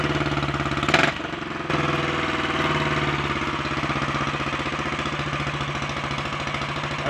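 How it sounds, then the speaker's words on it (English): A Royal Enfield 500 motorcycle engine, just after tuning work, runs close and loud. It gives a short blip of revs early on, then settles into a steady, rhythmic, slightly slow tick-over that continues to the end. "notice how when I rev it up, it's a little bit slow to come back down to a tick-over speed"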